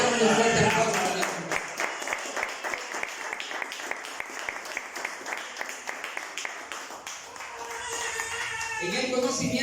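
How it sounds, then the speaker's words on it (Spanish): A church congregation claps in praise during a sermon, several seconds of brisk, moderately loud applause, with a voice speaking just before it starts and again as it dies away. "Démosle un fuerte aplauso al Señor."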